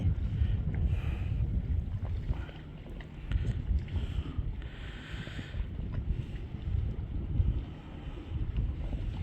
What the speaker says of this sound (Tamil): போட் போய்கின்றது பார்த்தீங்களா